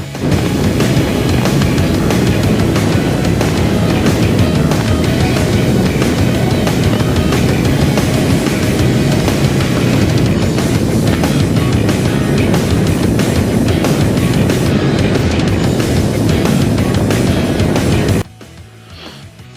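A Harley motorcycle rides at speed on the road, its engine roar loud, steady and continuous with heavy wind rush, cutting off abruptly near the end.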